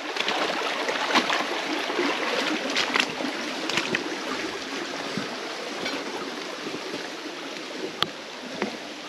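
A stream flows steadily beside a walking path, its continuous rushing and babbling water filling the scene, with scattered light clicks and a sharp tap near the end.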